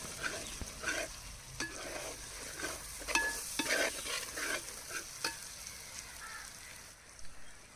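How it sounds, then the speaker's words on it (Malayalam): Chicken roast with garam masala and ground pepper is stirred in a sizzling pan, the utensil scraping in irregular strokes over steady frying hiss, close and moderately loud. "ഇനി ഇത് നന്നായി ഒന്നുകൊണ്ട് ഇളക്കുക"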